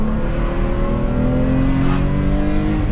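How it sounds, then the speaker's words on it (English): A BMW M3 E46's engine revs on the downshift, loud and close from inside the car, with a rising, shifting tone and a brief flare of intake roar midway. "Listen to that sound on the downshift."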